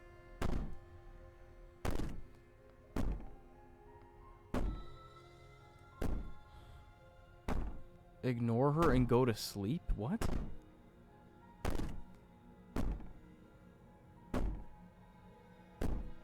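Heavy, evenly spaced thuds bang on a cabin in the game Slay the Princess, roughly every one to two seconds, loud and resonant; a person speaks briefly partway through.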